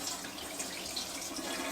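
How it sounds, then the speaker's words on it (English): Water drained off boiled sweet potatoes pours out in a steady, close splashing stream, continuous and unbroken with no voices. "try to lightly drain the water off the potatoes"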